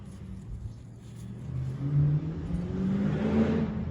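A car passes nearby with its mid-range engine revving and rising in pitch, swelling louder toward the middle and holding steady to the end, heard alone without talk.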